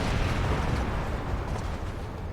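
Cannon fire and explosions during an airship attack in Final Fantasy XIV: dense, rumbling booms rolling into one another with no gaps, loud and continuous.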